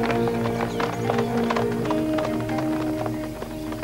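Hooves clip-clop steadily on hard ground as a horse ridden by a cavalry captain approaches, a brisk, close, rhythmic clatter with a continuous rumble of movement underneath.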